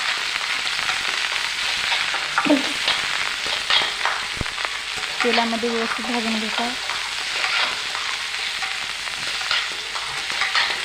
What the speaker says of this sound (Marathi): तेलामध्ये दोडका व्यवस्थित भाजून घ्यायचा